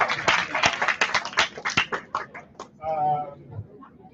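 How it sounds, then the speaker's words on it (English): Sparse clapping from a small audience at a coworking-space event, a handful of irregular sharp claps close by, thinning out and giving way to a voice at the end. "it's a round of applause"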